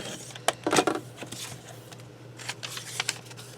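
Scissors snip through a book page in a few quick, close, crisp cuts scattered across a quiet moment, with light paper rustling between them.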